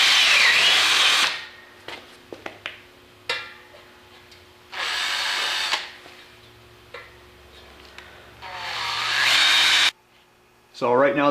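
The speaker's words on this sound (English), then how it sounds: "I want to start drilling holes for this one also so it can be bolted together" A power drill whines in several bursts of varying length, separated by clicks, knocks and handling noises, with a short voice in between.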